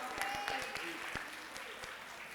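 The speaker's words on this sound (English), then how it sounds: "Y'all clap it up for them." An audience at a school day of non-violence and peace event claps steadily, the applause fairly distant and moderate in level, with a few sharper individual claps standing out.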